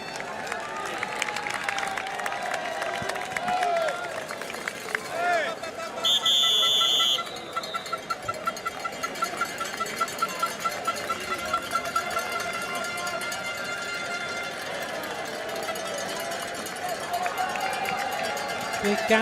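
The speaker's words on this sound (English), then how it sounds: "The crowd urging on this amazing champion." Spectators line a women's cyclo-cross World Cup course in Namur, a steady wash of crowd noise with cowbells and a brief buzzer, running under continuous commentary.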